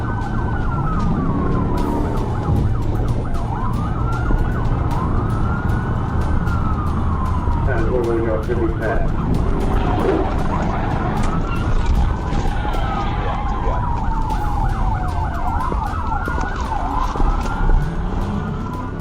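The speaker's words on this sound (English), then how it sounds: "Trooper Len activated his lights and sirens and joined the pursuit." A police car's wailing siren sweeps up and down continuously, loud and close, with a second siren pattern overlapping over steady road rumble during a pursuit.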